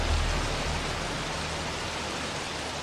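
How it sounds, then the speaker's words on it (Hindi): Heavy rain pouring steadily, a dense, continuous wash of hiss with no breaks, close and fairly loud throughout, and no voices over it. "बहुत तेज बारिश है"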